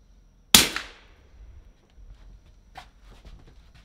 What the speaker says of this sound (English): with our hybrid 46 suppressor, I'm shooting 147 grain 9mm